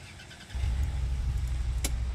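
A car engine in the survival game Under the Sand kicks in and settles into a low steady rumble while driving, close and constant, with a brief sharp click near the end.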